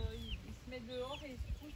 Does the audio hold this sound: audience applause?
no